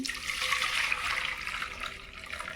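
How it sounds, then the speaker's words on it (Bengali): Water used to rinse lentils is poured away into a sink, a steady close rushing splash lasting the whole moment with no talk. "এই যে বন্ধুরা এই জলটা আমি ফেলে দিচ্ছি"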